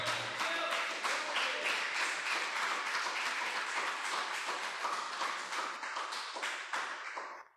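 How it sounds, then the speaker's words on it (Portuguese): A crowd at a church service applauding steadily for several seconds, a dense wash of clapping that holds level before tapering off at the end. "Vamos aplaudir ao Senhor."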